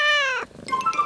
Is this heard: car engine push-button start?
no